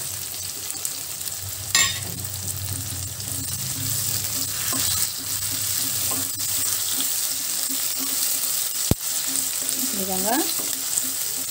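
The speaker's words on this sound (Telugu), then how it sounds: "ముందుగా మనం కట్ చేసి పెట్టుకున్న పచ్చిమిర్చి కూడా వేసుకొని వేయించుకుందామండి ఇందులోనే కరివేపాకు కూడా వేసి వేయించుకుందాము" Green chillies and curry leaves fry in hot oil for Rayalaseema-style uggani, giving a close, continuous sizzling hiss with occasional stirring clinks and one sharp knock; a voice speaks briefly over it.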